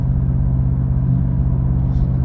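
A car's exhaust drones steadily while it drives downhill, a loud, low, even engine rumble throughout with no speech.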